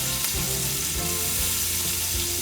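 Beef sears for caldo de res in a hot pot, giving a loud, steady close-up sizzle with spitting crackle throughout and no voices.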